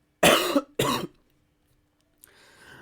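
Two sharp coughs in quick succession, close and loud, followed by a quiet pause and faint background noise.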